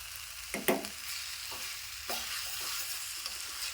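Idli masala fries in a hot pan with a continuous hiss and sizzle, broken by a few scraping stirs of a spoon, close and alone without talk.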